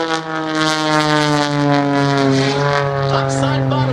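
A propeller airplane roars loudly and steadily with a droning harmonic hum as it flies an aerobatic snap roll at an air show, while an announcer talks over it.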